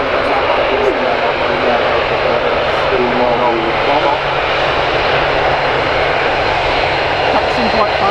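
Aircraft taxiing at Manchester Airport, a loud, steady engine roar that holds throughout at close range, with voices audible under the drone.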